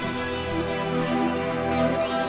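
A song plays with the drums stripped out, leaving sustained melodic and harmonic parts that flow at an even, moderately loud level with no percussion and no talking.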